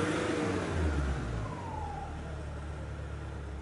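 A car engine running at idle: a steady low rumble throughout, a little louder in the first second and a half before settling into an even hum.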